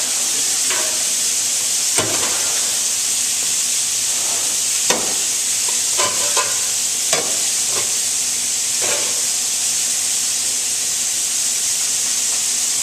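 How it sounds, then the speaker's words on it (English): Hot paella pan searing food with a steady loud sizzle and hiss, broken by a few short scrapes and clinks of stirring. "The best sear that you're gonna get out of your pan is always that first sear, right?"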